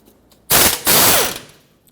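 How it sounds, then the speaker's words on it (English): An 18mm socket on a ratchet breaking loose a rear caliper bracket bolt on a Ford Excursion: two loud, close bursts of rapid ratcheting clicks, the second longer and fading out. "Put your socket on the top bolt, break it free, and take it off"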